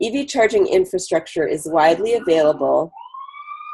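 Someone talks steadily, then a siren's rising electronic wail begins as his voice stops and carries on to the end.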